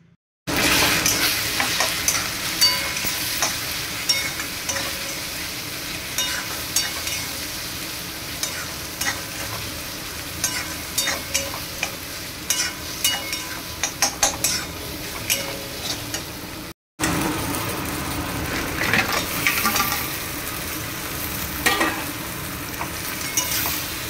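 Spicy crab curry, cooked with cumin, coriander and chilli powders, fries in a pan with a constant sizzle under repeated scraping stirs and clinks of a utensil against metal. The sound stops briefly near the end, then the frying resumes. No voices.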